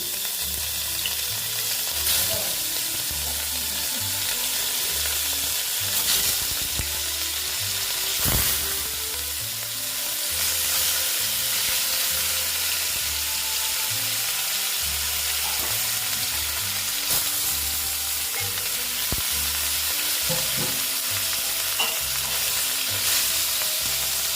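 Rohu fish sizzles and fries steadily in hot oil in a home kitchen, a continuous close crackle with occasional sharper pops and stirring clatter throughout, no talking.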